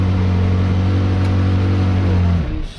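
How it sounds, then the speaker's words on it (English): A McLaren 675LT ClubSport being lowered on a lift during delivery gives a loud, steady motorised hum with strong low harmonic tones, running evenly before winding down and stopping near the end. "So it's lowering the vehicle down again."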